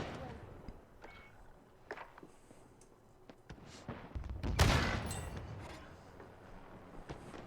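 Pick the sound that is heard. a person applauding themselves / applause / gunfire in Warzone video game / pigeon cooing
gunfire in Warzone video game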